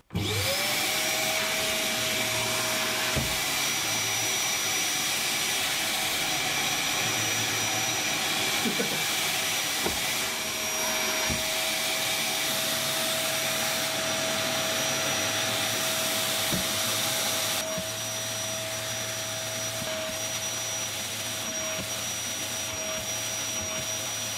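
A Scheppach dust extractor from Aldi, connected by a rubber adapter to a Festool tool's hose, roars in a loud, steady vacuum whoosh with a high whine that runs throughout.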